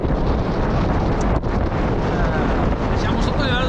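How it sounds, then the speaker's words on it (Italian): Strong, constant wind buffets the microphone while cycling through the Comacchio valleys, a low roaring rumble that fills the whole stretch with only a brief dip in the middle. "sta ricominciando il vento"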